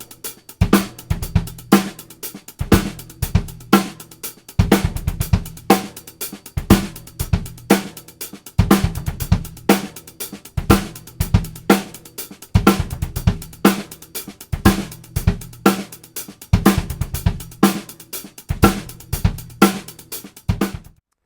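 Drum kit plays a groove, the right hand on a broken 16th-note pattern, with crisp cymbal and snare hits over a repeating kick pattern, close and loud, no talking.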